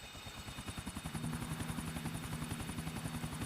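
Rapid, even rotor thumping of a helicopter in Grand Theft Auto IV, a steady chopping pulse with an engine whine beneath, fairly close and continuous.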